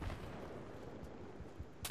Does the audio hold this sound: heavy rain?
no